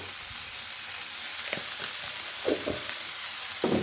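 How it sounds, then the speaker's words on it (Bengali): Steady sizzling of tomatoes frying with salt in a pan, with a few soft stirring scrapes and clinks breaking through the hiss. "নুনটা দিয়ে টমেটোটাকে ভালো করে আগে ভাজা ভাজা করে নিয়ে একদম নরম করে নেব"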